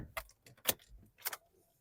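Two keys for a 2013 Honda CR-V diesel jangle close up in a few quick metallic bursts, bright clinks separated by short pauses, with no talking.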